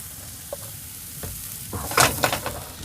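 Onions sizzle in about a tablespoon of oil in a pan for an Anaheim pepper omelet. A soft, even frying hiss builds into a cluster of louder stirring scrapes and tosses near the end.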